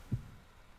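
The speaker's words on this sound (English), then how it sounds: "The heartbeat noise really does not help." A low, muffled heartbeat thump plays once as an eerie effect in the video game Fire Emblem: Three Houses, over a faint steady hum.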